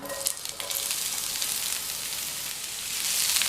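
Cut onions frying in oil on a new iron dosa pan being seasoned: a dense, close, continuous hiss of sizzling with a few crackling spits near the start, steady throughout and without any voices.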